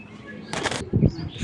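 Female racing pigeon flapping and struggling in a hand, a short burst of wing fluttering followed by low coos and bumps, close and moderately loud, with someone speaking faintly nearby.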